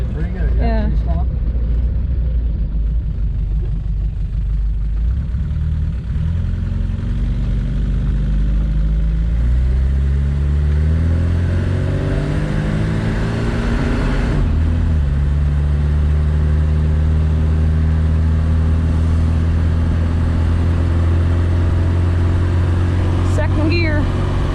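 An Opel GT fitted with a Weber 32/36 carburetor pulls through its gears, the loud engine drone climbing in pitch, dropping at each shift and climbing again, with someone speaking briefly at times.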